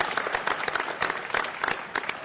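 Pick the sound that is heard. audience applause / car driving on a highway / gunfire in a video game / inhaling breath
audience applause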